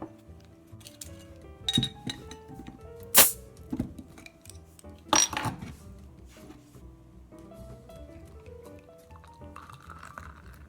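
Glass clinks and pouring of Belgian Trappist beer into a plain tasting glass: a few bright clinks and taps up close, with liquid gurgling and fizzing between them and no talk.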